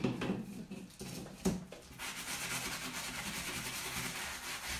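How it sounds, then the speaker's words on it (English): Soft, scratchy rubbing strokes, a sanding block worked back and forth over a surface, a few distinct scuffs then a steadier abrasive hiss. "she's just rubbing slightly over the embellishment with a sanding block"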